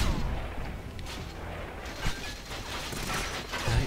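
Enemies fire guns at the player in 007 GoldenEye Reloaded, a continuous dense clatter of gunfire and mechanical rattling with sharp impacts scattered through, steady and close.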